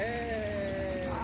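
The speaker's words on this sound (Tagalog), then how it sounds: "Ulan." Steady rain patter with a constant hiss, plus a sustained tonal hum running underneath throughout.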